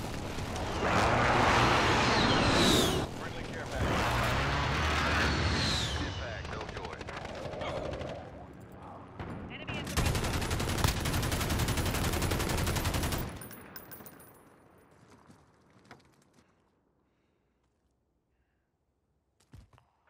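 Called-in strike explosions and heavy automatic gunfire in Call of Duty: Modern Warfare boom loudly in dense bursts, with a radio-style voice over the combat, before the din fades to near silence.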